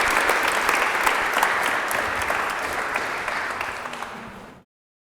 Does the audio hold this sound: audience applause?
yes